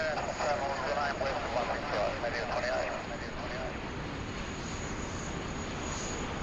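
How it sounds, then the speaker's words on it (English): A Singapore Airlines A380 at Sydney Airport drones as a broad, steady engine roar heard from a distance, with a voice talking over it early on. "We're going to the Singapore Airlines A380 for you today, mate"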